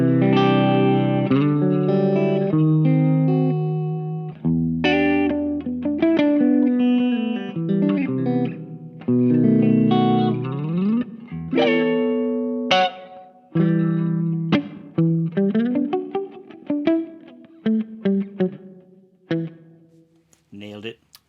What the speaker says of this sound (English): Clean sound, beautiful.